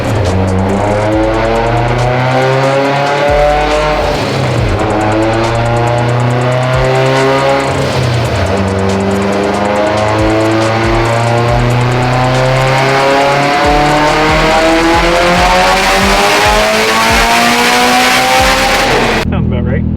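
A 700 WHP Mitsubishi Evo on a stock motor driven hard: loud, continuous engine revving rising and falling through gear changes, with tire squeal and skidding layered over the roaring exhaust throughout, and voices faintly beneath.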